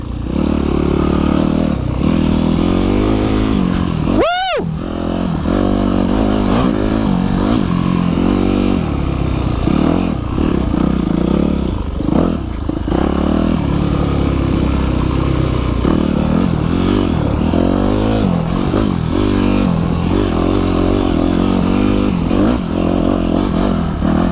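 A dirt bike engine roars steadily while riding the Jones Creek trail loop, loud and close throughout, with a sharp rev rising near the start and rattling, scraping trail noise underneath.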